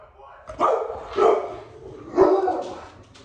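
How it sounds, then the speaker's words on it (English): Dogs bark in three loud bursts spaced about a second apart, each a cluster of sharp yaps close by, with quieter stretches between them. "He's making the dogs bark."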